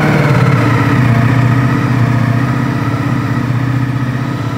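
A Ducati Multistrada V4 RS motorcycle with a catalytic converter still in its exhaust idles steadily at close range, its engine note a loud, even rumble with no talk over it.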